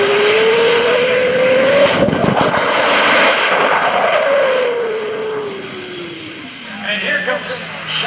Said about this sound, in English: This is what happens when you trip the afterburner.